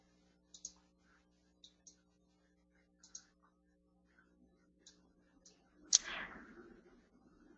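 Computer mouse clicks while working in ARCHIBUS space planning software, about ten sharp, faint, isolated clicks spread irregularly, followed by a short soft rustle near the end.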